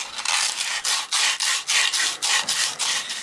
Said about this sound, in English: I've been sanding this now with the 80 grit sandpaper for probably about 20 minutes